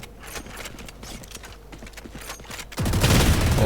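An AWP sniper rifle in the shooter Valorant cracks once as a single loud, booming shot near the end, after a stretch of quieter in-game footsteps and clatter.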